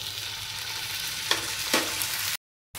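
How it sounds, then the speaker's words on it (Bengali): Chopped tomato and onions fry in a pan for a bhindi masala curry, giving a steady close sizzle with a couple of sharp spatula scrapes before a sudden short silence. "টমেটোটা সামান্য ভাজা হয়ে গেছে"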